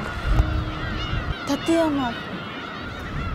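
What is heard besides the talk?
seagulls calling noisily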